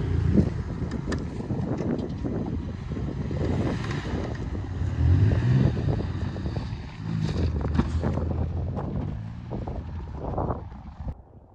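A new Ford Escape churns through mud off-road, its engine droning steadily with sloshing, splattering bursts and wind buffeting the microphone throughout, all at close range with no talking.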